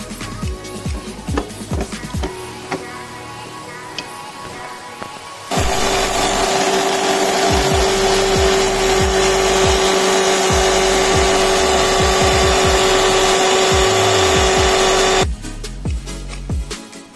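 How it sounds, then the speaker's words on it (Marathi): A kitchen mixer grinder pulverises dried ginger into powder, a loud steady whine with a strong tonal hum that starts abruptly after a few seconds of quieter background, runs for about ten seconds, then cuts off. "आपण ह्याची मिक्सरला पावडर करूया"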